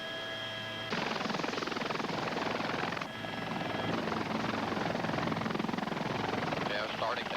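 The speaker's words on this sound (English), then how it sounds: "To lift off into a hover, I'll be lifting up on the collective stick," A helicopter spools up as it lifts off into a hover, its rotor and turbine a loud, dense whine and chop that swells after the first second and holds steady, with a pilot's voice briefly over it.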